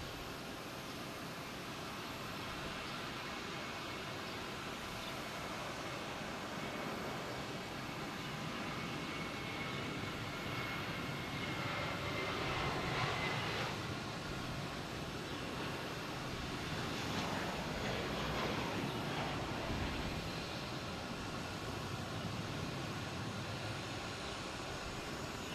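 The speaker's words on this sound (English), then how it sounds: "next takeoff is JetBlue, heading to Nashville, an A320" A JetBlue Airbus A320 taking off at Boston Logan Airport in the evening: a broad, distant jet roar swells slowly and peaks near the middle, then eases off, steady and unbroken with no talk.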